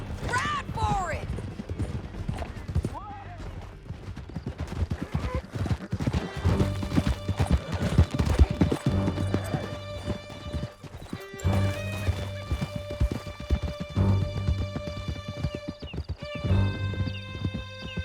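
Horses galloping in Red Dead Redemption 2, dense rapid hoofbeats with a whinny near the start over a tonal musical score, and voices briefly heard amid the ride.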